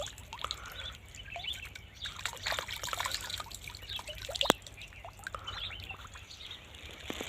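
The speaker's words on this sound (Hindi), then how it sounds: "बिल्कुल साफ पानी है" Clean spring water trickles and drips in a quiet, irregular patter, close and faint, with scattered small splashes and a brief sharp tick midway.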